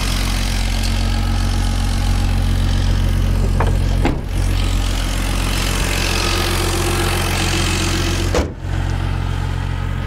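A turbocharged BMW 330ci E46 with an M54B30 engine idles steadily with a deep, even rumble, close by, interrupted by a couple of brief thumps.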